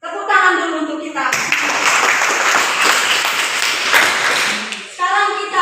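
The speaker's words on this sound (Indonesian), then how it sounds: "tepuk tangan dulu untuk kita" A classroom of students claps together in a dense, lively burst of applause lasting several seconds, with a voice speaking just before and after the clapping.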